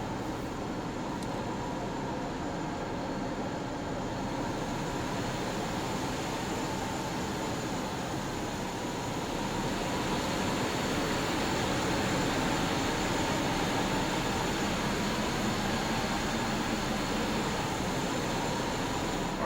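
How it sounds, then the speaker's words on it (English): Steady propeller engine drone of a TorqueSim Pocket Rocket light aircraft taxiing in the X-Plane 11 flight simulator, a continuous broadband hum with a faint high whine, holding level throughout with no talk. "release the parking brake and taxi to the runway"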